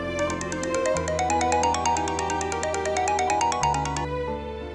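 A phone ringtone plays alone, a bright, rapid repeating electronic melody with a pulsing rhythm and a deeper synth bass that drops in and out, loud and close before cutting off near the end.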